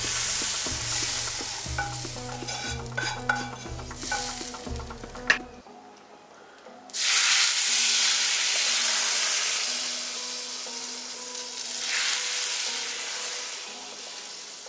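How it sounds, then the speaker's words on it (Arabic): Hot fried topping is poured over simmering beans with meat, stirring and clinking for several seconds, then a brief lull before a loud burst of sizzling that hisses steadily on. "وهني وعم يغلوا بدنا نفقش هالتقلية على وجهن"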